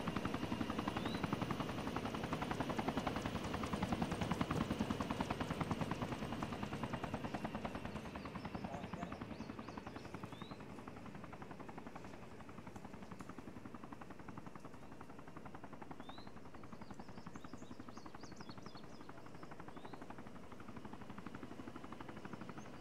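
Constant rhythmic chopping of a helicopter rotor in the video game Arma 3, loud at first then slightly quieter, with faint chirps over the steady drone.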